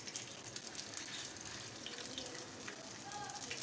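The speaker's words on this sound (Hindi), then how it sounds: "ऐसे ही हम बाकी के कबाब भी फ्राई करेंगे, डालेंगे इस पर।" Chapli kababs fry in a pan with a soft, steady hiss and crackle, fairly faint and continuous over a few seconds.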